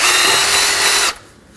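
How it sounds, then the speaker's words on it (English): A power drill spins a bore brush inside the wheel speed sensor hole of a 2020s Toyota Corolla, a loud steady high whir for about a second that cuts off abruptly, leaving faint room noise. "Using a bore brush and a drill, we're going to clean the inside of the sensor hole."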